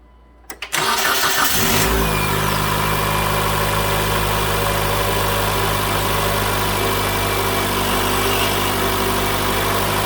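After a couple of clicks, a 2009 Mitsubishi Lancer 2.0 engine with a newly replaced starter cranks and catches, then settles into a steady, loud idle that continues for several seconds.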